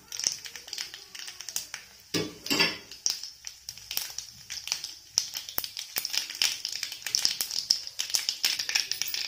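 Dense crackling and rapid popping, like mustard seeds spluttering in hot oil, with scattered sharp taps of utensils against a pan.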